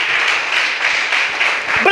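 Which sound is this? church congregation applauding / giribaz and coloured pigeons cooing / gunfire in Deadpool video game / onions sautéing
church congregation applauding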